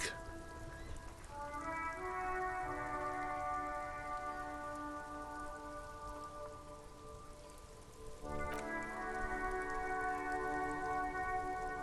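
Steady rain pours onto sand and reeds in the video game Disco Elysium, a dense, even hiss that lasts throughout under soft sustained musical tones.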